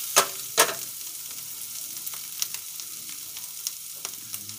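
Potatoes for a fasting-day aloo fry crisp in a kadhai, a faint steady sizzle broken by a few scraping stirs, two sharper clacks near the start, no voices.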